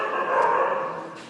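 Several dogs bark at night outside a room, a steady noisy chorus of yaps and yelps rising and falling, moderately near, with no talk over it.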